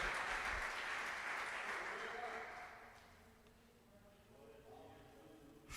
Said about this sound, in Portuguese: Pode aplaudir, pode glorificar.